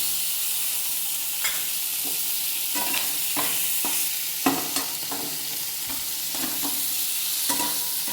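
A steady sizzle of food frying in a pan, punctuated by irregular scraping and tapping of a spatula as it is stirred.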